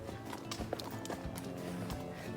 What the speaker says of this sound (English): He is a horse